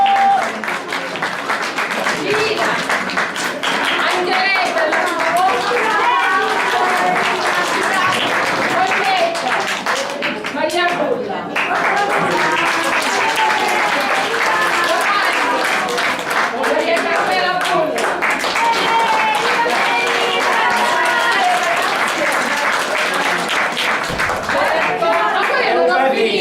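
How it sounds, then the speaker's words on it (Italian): Lively audience clapping at an Italian theatre comedy performance, long and continuous with rhythmic hand claps, a brief dip midway, and voices and chuckles mixed underneath. "Gli devo fare un applauso"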